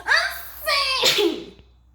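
A voice imitates a sneeze, a drawn-out rising wind-up ending in a sharp burst, with a giggly, playful tone.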